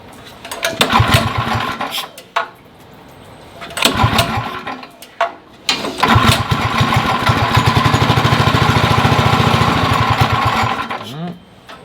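A small engine runs roughly, cutting out and restarting in bursts before settling into a steady, loud run as throttle is added, with a voice talking in between.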